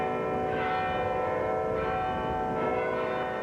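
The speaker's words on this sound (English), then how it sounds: "This election was greeted with bell ringing in the historic tower of the Cathedral Basilica of the Sacred Heart in Newark." Church bells ring in the historic tower of the Cathedral Basilica of the Sacred Heart in Newark, a steady, sustained peal with overlapping strikes and resonant tones.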